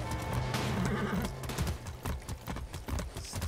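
Horse in the game Far Cry 6 whinnies loudly while hooves clip-clop in a steady gallop rhythm, close and continuous over game ambience.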